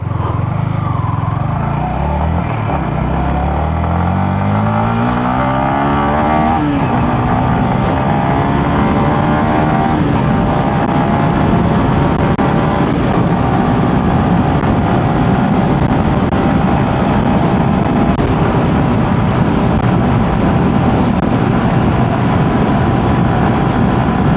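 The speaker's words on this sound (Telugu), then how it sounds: "ఒకసారి ఇంజిన్ పెర్ఫార్మెన్స్ అయితే చెక్ చేద్దాము" A Yamaha XSR 155 motorcycle engine runs loud and close for the whole stretch, revving up with rising pitch early on and then holding a steady droning hum while riding over an uneven road.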